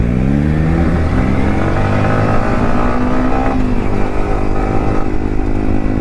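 Loud modified motorcycles on a crowded group ride, engines droning and revving continuously at full volume, close and steady with no pauses.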